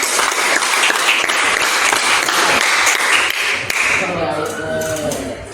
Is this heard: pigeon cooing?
no